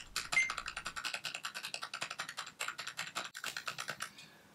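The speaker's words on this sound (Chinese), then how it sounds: "然后按住键盘的 F7。" Rapid typing on a computer keyboard while setting up a J1900 soft router, with a long run of crisp, evenly spaced key clicks close up, then fading out.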